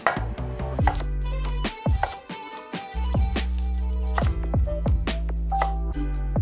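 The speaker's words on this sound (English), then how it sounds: "We'll chop the carrots into little dices and the celery into dices and" Carrots, celery and onion being diced with a knife on a cutting board for minestrone soup, giving a quick, steady run of close, sharp chopping knocks with a brief pause partway through.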